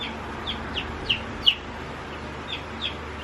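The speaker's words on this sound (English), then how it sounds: "Here's one of the chicks. These are well summers." Welsummer chicks peeping, a handful of faint, high chirps spaced irregularly over a steady low background hum.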